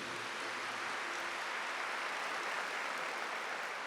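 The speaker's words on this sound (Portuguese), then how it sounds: "Pode aplaudir, pode aplaudir." Audience applause at a talk, a dense steady wash of many hands clapping at once, even and sustained throughout, moderately distant and without voices.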